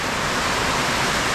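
Heavy rain pours steadily with water rushing along a road beside a house build site in the Philippines, a dense, constant broadband hiss close by with no voices.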